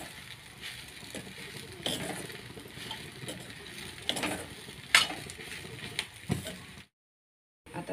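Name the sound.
sautéing in a pan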